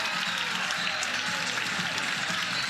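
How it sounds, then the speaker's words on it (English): The crowd at Love's Field rises and applauds pitcher Isabella Smith after a strikeout during a South Carolina vs Oklahoma college softball game, a dense, steady ovation heard from a distance. "the crowd here at Love's Field comes to its feet and gives Isabella Smith a hand"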